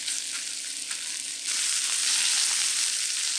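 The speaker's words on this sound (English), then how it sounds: "Spread the pork belly out in one layer at the bottom of the pan" Pork belly spread in a single layer browning in a pan, a steady dense sizzle and spatter that swells a little louder partway through, close and continuous with no talk.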